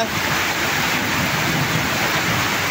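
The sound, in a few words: heavy rain during a flash flood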